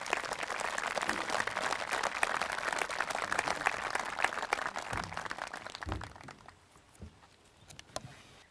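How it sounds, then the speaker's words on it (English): An audience claps for four award-winning students at a school agriculture farm breakfast, steady and moderately loud for about six seconds before fading into a few scattered late claps. "Let's give these 4 a round of applause"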